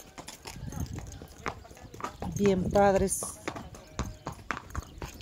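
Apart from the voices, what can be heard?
horse hooves clip-clopping while riding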